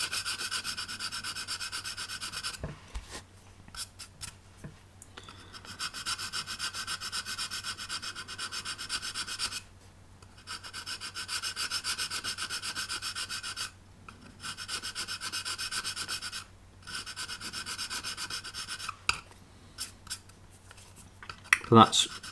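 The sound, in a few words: filing plastic filler on a model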